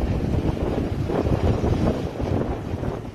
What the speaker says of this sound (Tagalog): Kita ang pagtama ng mga alon sa seawall sa Barangay Poblasyon.